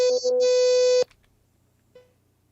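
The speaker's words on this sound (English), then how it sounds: "You are beeping." An electronic beep from a call participant's device sounds as one sustained harmonic tone of about a second, cuts off abruptly, then gives a short faint blip, heard alone over a quiet rhythmic background.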